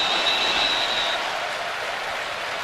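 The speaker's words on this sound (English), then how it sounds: "this crowd is ready to roar" A football stadium crowd at a Texas A&M Aggies versus Miami Hurricanes college game roars as a broad, sustained wall of noise, loud and steady throughout with no clear announcer voice over it.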